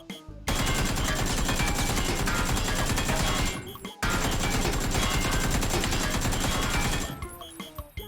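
Rapid automatic gunfire from the PUBG video game aimed at a Porter truck: two long, loud, continuous bursts, separated by a brief pause, before the firing trails off.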